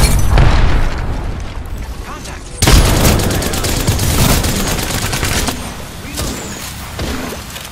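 A frag grenade goes off in Apex Legends, a loud boom with a rumbling tail, then a second sharp blast followed by bursts of gunfire and crackling debris; a voice speaks briefly over it.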